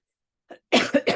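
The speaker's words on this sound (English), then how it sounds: "I'm so sorry, I keep coughing." A short faint cough followed by two louder, harsh coughs in quick succession, close by.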